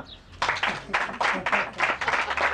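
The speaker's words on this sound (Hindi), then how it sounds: "तालियां" An audience at a talk on rhythm in Indian music claps in a short burst of applause, the clapping coming in uneven waves that swell and fade over a few seconds.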